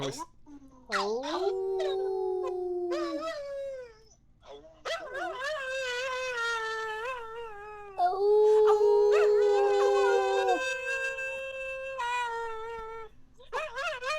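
A dog howls on a livestream, long wavering howls with whimpering rises and falls, close and loud, repeating in several drawn-out bursts with brief gaps between them.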